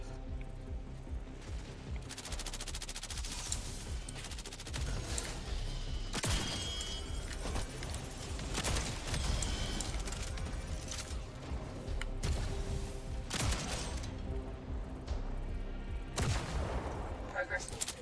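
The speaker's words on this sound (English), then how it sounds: "the marksman rifle is really nice" Marksman rifle shots in the Jump Space video game crack out repeatedly at irregular intervals over busy combat noise, with other gunfire and people talking.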